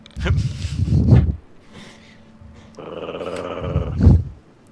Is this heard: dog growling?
yes